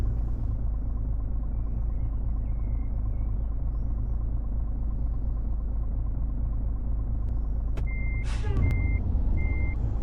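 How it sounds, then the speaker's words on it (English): Truck engine in a trucking video game rumbles loudly and steadily throughout, with a short burst of high reversing beeps sounding near the end. "The truck is very noisy."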